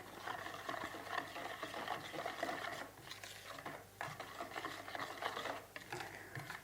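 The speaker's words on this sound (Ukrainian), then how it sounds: "Далі все добре перемішуємо." Quiet, uneven scraping and swishing as paska bread batter with flour is stirred in a bowl, repeating in short strokes with brief pauses.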